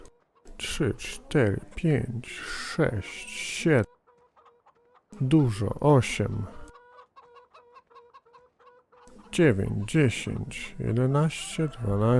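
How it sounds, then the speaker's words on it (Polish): Chickens clucking on a farm in the Farming Simulator 17 video game, a steady cluster of soft, close clucks heard in a quiet gap between stretches of someone talking. "Kurki, gdacze, trzeba jajka pozbierać."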